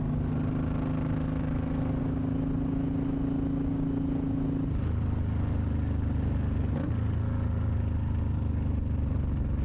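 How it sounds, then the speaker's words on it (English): Suzuki M109R motorcycle, a 2007 model, with its exhaust running without baffles: a steady, loud low engine rumble idling and revving throughout, its pitch dropping partway through as the engine settles into a deeper drone. "you can quiet the exhaust down"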